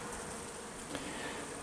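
Honey bees hum at an open beehive during an inspection, a soft continuous buzz with no talking.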